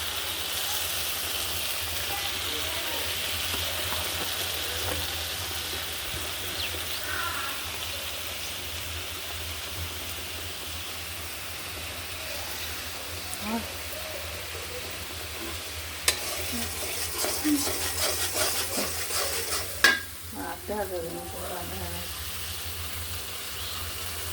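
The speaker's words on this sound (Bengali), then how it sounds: "একটু ভাজি করবো সুন্দর করে।" Food frying in a pan with a low steady sizzle, joined later by a run of clattering spatula scrapes and knocks as it is stirred, then a few sharper clanks near the end.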